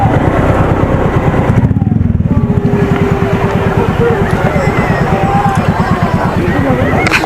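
Motorcycle rolling slowly on a ride through Bicol near the Cagsawa Ruins while hunting for a parking spot, its low engine pulsing steadily and close for the whole stretch, with faint crowd babble in the background.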